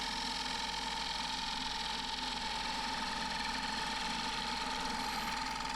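A wood lathe spins a willow bowl blank with a steady, dense mechanical whir and faint ratcheting texture, continuous and even throughout, no voices present.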